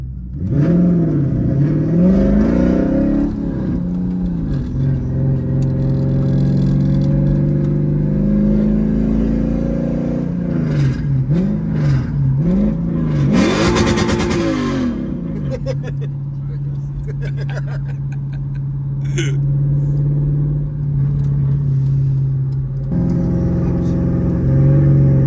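Inside a V8-swapped Volvo 240 wagon sleeper on a test drive, the engine revs loud and close with rising and falling pitch through the clip, under a rumbling drone, while people talk over it.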